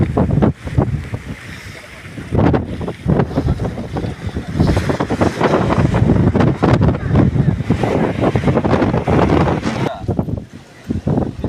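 Strong wind roars across the sea around a fishing boat, a loud, continuous buffeting rush that gusts up and down against the microphone with a deep rumble beneath, and no voices.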